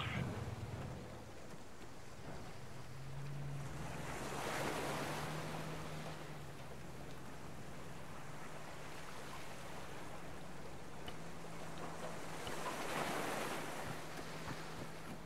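Arma 3 video game audio: steady surging ocean waves and wind noise, with the low droning hum of an approaching boat engine rising and fading underneath.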